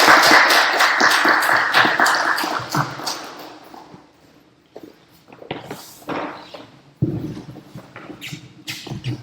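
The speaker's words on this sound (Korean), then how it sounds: "큰 박수로 모셔주시면 감사하겠습니다" Scattered, uneven clapping from a seminar audience welcoming the next presenter, loudest at the start then thinning to sparse claps and a few louder bursts later.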